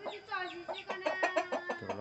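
Chickens cluck and squawk close by in a quick, rhythmic series of calls, with a faint voice speaking in the background.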